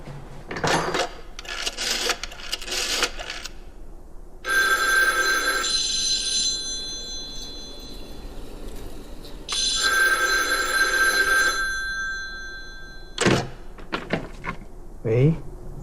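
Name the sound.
telephone ringing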